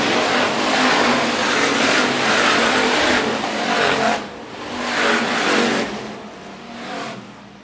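Hobby stock race cars on the track at Phillips County Raceway, loud engines roaring and surging as they pass close by in waves, with revving rising and fading and no talk over them.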